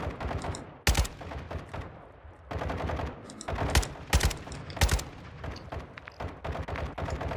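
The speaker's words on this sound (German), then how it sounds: "Stehe unter direktem Beschuss." Gunfire in the video game Modern Warfare II DMZ, repeated loud shots and short bursts scattered across the clip, some sharp and near, over background game noise.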